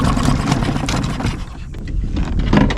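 A Suzuki 2.5hp outboard on a kayak runs rough, its small engine sputtering and surging unevenly amid wind buffeting on the microphone.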